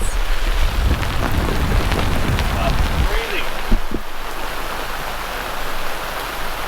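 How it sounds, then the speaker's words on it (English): Heavy wind roars and rain pelts down on a sailboat during a storm front in the British Virgin Islands, a steady wash of noise, loud and close, with gusty low rumbling that eases partway through. "We just got hit by another storm front."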